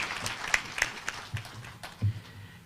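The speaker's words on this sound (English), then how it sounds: "A round of applause for the Chair of Council of Governors." Sparse, faint scattered clapping from an audience at a government council session, a few quiet claps spread over a couple of seconds with a low murmur underneath.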